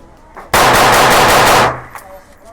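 A CZ P10C ported pistol fires a rapid string of about seven shots in just over a second, loud and close, each report running into the next.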